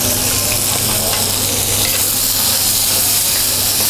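Chili stir-frying in a hot pan while cooking grilled rib sate, a loud dense continuous sizzle and hiss with no distinct strokes standing out.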